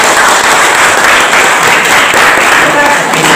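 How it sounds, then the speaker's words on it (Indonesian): Lively applause from a school audience welcoming a presenter, a loud, dense, continuous wash of clapping with crowd noise, close and unbroken from start to finish. "Kita sambut dengan tepuk tangan yang meriah untuk pemateri kita."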